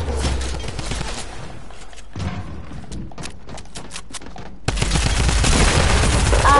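Rapid bursts of automatic gunfire in a 2v2 video game match, chopping in and out with short gaps before a louder, denser volley near the end.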